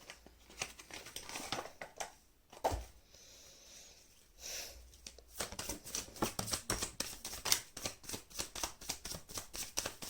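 Tarot cards being shuffled by hand, a run of quick soft riffling and crinkling bursts at close range, with a brief pause partway through and no talking.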